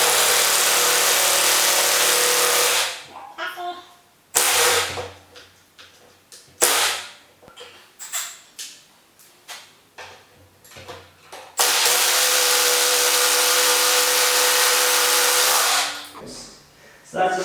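A wrench tightens a coilover bolt on a Honda S2000, heard as long, loud, harsh buzzing bursts with a run of short clanks and rattles in between.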